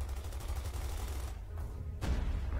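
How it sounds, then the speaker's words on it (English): Faint, distant sniper rifle shots in Company of Heroes 2, with the sniper repeatedly picking off Rangers amid a low battlefield rumble and one sharper report near the end. "the sniper just keeps sniping the Rangers"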